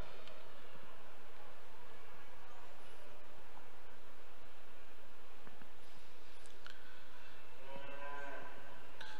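Heifer calves at a Speckle Park cattle show, a few faint, distant moos over a broad hiss of hall noise and rustling, with no clear speech.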